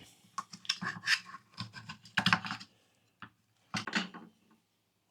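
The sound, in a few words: knife cutting sirloin steak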